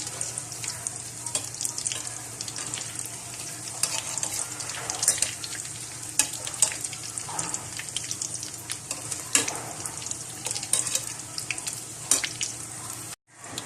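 Cheesy potato balls frying in oil in a pan, a steady close crackling sizzle running throughout with bright spitting pops, no voices, ending with a brief cut.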